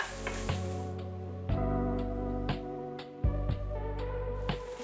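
Celery and peppers sautéing in a skillet with salt and pepper, a soft steady sizzle broken by periodic clanks and stirring scrapes, with a tonal ringing underneath throughout.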